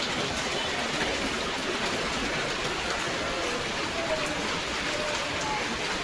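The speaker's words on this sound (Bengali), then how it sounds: "জোর বৃষ্টি নেমেছে" Heavy rain pours down steadily on a market street, a dense, continuous hiss of drops close by with no breaks.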